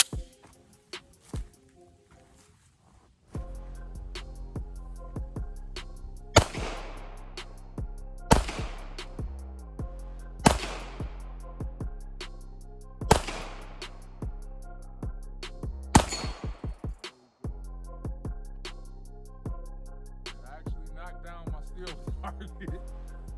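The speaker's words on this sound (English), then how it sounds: "I just wanted to see what it's like to just shoot it" Canik Mete SFX pistol firing at an outdoor gun range, a string of sharp close shots with echoing tails, some spaced and some in quick succession, no voices.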